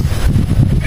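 Steady low rumbling wind buffets the microphone, a continuous blustery roar with no voices.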